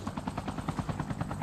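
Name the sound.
helicopter in Call of Duty Mobile video game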